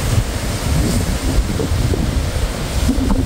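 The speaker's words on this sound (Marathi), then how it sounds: "धबधब्याचं जे पाणी आहे ना ते संपूर्ण असं वर उडायला लागलंय" A waterfall at Kalu with spray blowing upward over a deep valley, heard as a loud, constant roaring rush mixed with heavy wind buffeting the microphone.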